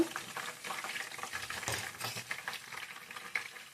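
Curry leaves with their stems fry in hot oil while making idli 65, a soft continuous sizzle and bubbling with light stirring movements, fairly quiet and close.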